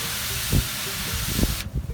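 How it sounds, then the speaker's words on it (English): A spray bottle gives a short, close hiss of spritzing onto pork before smoking, a steady misting that cuts off abruptly, with a couple of soft knocks. "Nice little spray bottle here."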